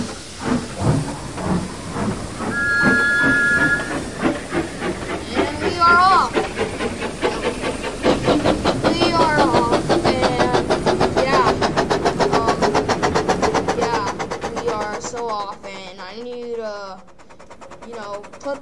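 Locomotive engine sound from the Trainz Simulator 19 video game, a loud, steady mechanical drone with hiss that builds and holds before easing off near the end, with someone talking over it.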